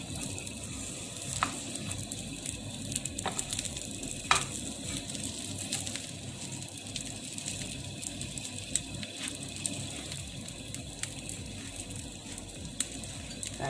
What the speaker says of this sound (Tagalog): Malapit na guys, maluto ang ating fried cabbage.